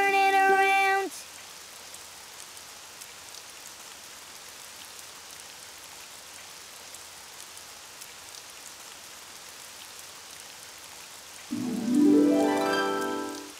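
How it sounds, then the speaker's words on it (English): Steady rain falls outside in a children's cartoon, a soft, even hiss that runs alone between short musical bits at the start and end. "Oh, it's raining outside."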